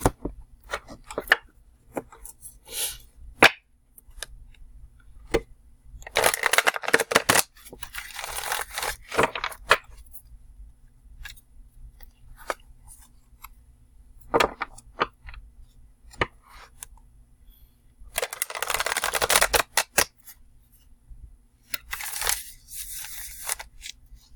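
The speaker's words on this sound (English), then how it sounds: "It takes me forever to shuffle these because this deck is so huge." Repeated riffling and slapping of a big tarot-style reading card deck being shuffled, bursts of flutter between sharp taps and clicks, close and alone.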